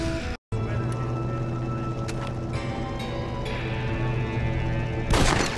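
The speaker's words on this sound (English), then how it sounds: "I've heard enough gunfire for one day." Gunfire in the video game Red Dead Redemption: one loud, sharp shot bursts out near the end, with a few fainter cracks earlier over a steady droning game background.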